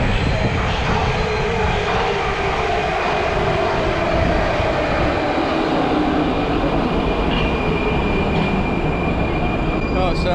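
A Prague Metro train roars loud and steady on an underground line, a continuous rumbling and rushing drone with a faint high whine, heard up close with a voice partly masked beneath.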